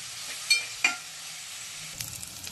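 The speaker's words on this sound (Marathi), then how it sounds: "ह्याच्यामध्ये आपण टोमॅटो टाकून घेऊयात आणि ते सुद्धा आपल्याला परतून घ्यायचे" Tomatoes are sautéed with golden fried onions in a pan. A soft sizzle runs under two sharp spoon clinks early on, followed by lighter scraping stirs, and no one speaks.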